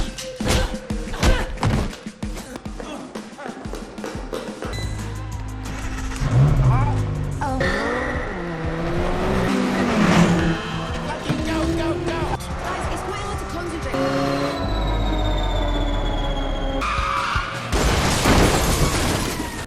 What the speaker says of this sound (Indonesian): namun tiba-tiba Lindy berhasil melarikan diri dengan mengendarai mobil milik Justin